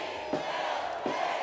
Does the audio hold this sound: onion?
no